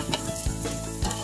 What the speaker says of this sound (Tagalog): Igisa ang luya pag mainit na mantika.